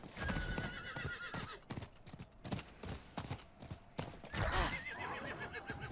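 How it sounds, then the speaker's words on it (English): Horse hooves clip-clop at a gallop with repeated whinnies and neighs in the Diablo 4 video game, loud and close, mixed with game effects and no talking. "I'm going to want to be doing this on horseback for the added speed."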